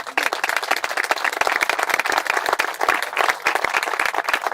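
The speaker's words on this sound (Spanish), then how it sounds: "no tenéis que aplaudir" A crowd at an open-air political talk in Málaga claps; the applause is sharp and fairly close, with distinct individual hand claps ringing through a lively, uneven rhythm that persists without talk.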